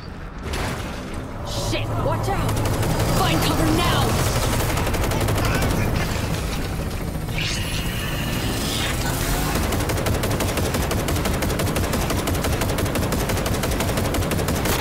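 Sustained automatic gunfire in Cyberpunk 2077, loud and continuous rapid bursts filling the whole stretch, with game sounds and a voice mixed underneath.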